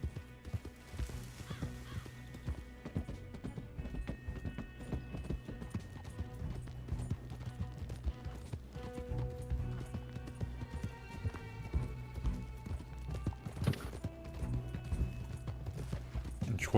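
A horse gallops through a Wild West game near the town of Valentine, rapid rhythmic hoofbeats thudding up close under game music, with a neigh or two and mechanical clinks, no one speaking.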